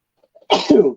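A single sharp, explosive burst from a person, like a sneeze, preceded by a faint intake and ending in a short trailing release.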